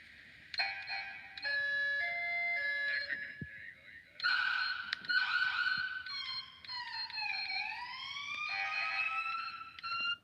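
A DNR Intimidator electronic siren cycles through several tones: steady wails, rapid yelps and rising and falling sweeps, fairly loud with short gaps between patterns.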